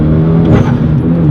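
A 2013 Hyundai Genesis Coupe 2.0T pulls hard in second gear, its engine a loud, steady droning roar heard from inside the car for a brief moment.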